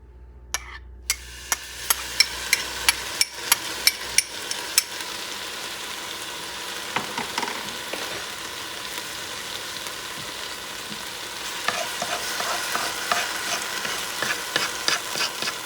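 Sofrito of tomatoes sizzles steadily in a pan over high heat as a base for rice with pork sausage, with sharp clinks of a utensil stirring it at a fairly regular pace, especially early on and again near the end.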